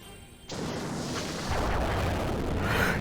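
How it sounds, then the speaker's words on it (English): A stun cannon attack in the video game Lunar Silver Star Harmony erupts as a sudden loud blast and settles into a sustained roaring rumble that swells again midway, with no voices. "Stun cannon."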